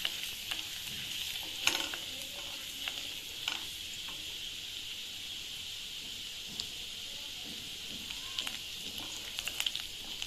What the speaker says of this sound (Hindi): इसको भून लेना गार्लिक को।